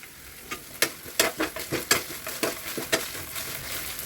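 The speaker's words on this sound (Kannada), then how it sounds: "ಶುಂಠಿ ಬೆಳ್ಳುಳ್ಳಿ ಪೇಸ್ಟು ಅಲ್ಲಿ ಗಂಟ ಫ್ರೈ ಮಾಡ್ಕೊತೀನಿ" Ginger garlic paste frying with curry leaves for pepper chicken, stirred in a hot pan: a steady close sizzle under a run of sharp scraping strokes, roughly one every half second, with no voices.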